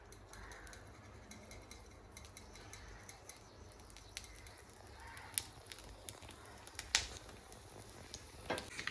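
A quiet, steady sizzle of garlic tempering in hot oil for a potato and green pea gasi, with a few sharp pops and clicks near the end and no voices.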